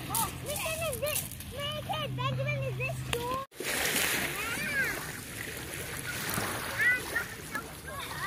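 Children play and splash in lake water at Lake Washington, with irregular nearby sloshing and splatter running under frequent excited voices and adult talk throughout.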